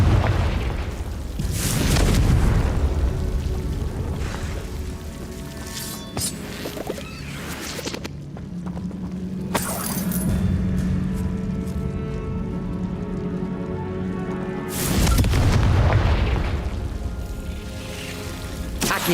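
Loud magical explosions from the Confringo fire spell in Hogwarts Legacy, with two deep booming blasts roughly twelve seconds apart and rumbling debris and ambient game sound between them.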